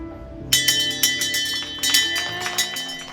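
A bell rung repeatedly by a cancer survivor marking the end of treatment, bright metallic strikes in a quick series of rings with lingering overtones, two clusters of clangs close by.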